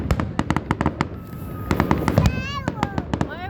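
Fireworks at the Flora fair in Ain burst in a rapid run of sharp cracks and pops, some whistling rockets rising near the end, with people talking underneath.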